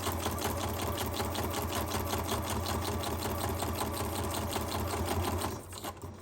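A sewing machine stitches through paper tags with a fast, even mechanical clatter close by, running steadily for several seconds before stopping abruptly.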